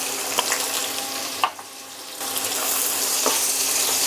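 Chopped onions frying in oil with half a spoon of salt for Kashmiri dum aloo, a continuous close sizzle broken by a brief stirring scrape and a short dip before the hiss swells again.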